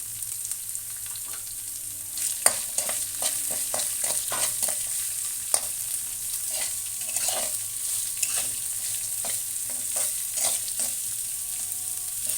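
Onions and dried red chillies for an aloo kurma fry steadily in a pan, giving a continuous crackling sizzle with repeated scraping stirs throughout, close by with no voices.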